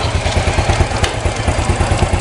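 A motorcycle engine idles close by, a loud, steady low putter with regular pulsing throbs throughout.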